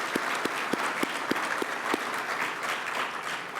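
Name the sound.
audience applause for sponsors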